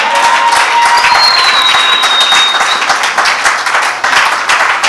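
Church congregation applauding and cheering together, a dense, steady wash of many hands clapping at close range throughout, with a few voices rising above it.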